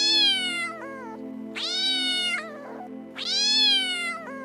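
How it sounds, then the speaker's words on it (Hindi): A cat meows three times in long, drawn-out, close and loud calls, each rising then falling, with short pauses between and no talking. "बेटा, बिल्ली रास्ता काट दिया है, हम लोग आगे नहीं बढ़ेंगे"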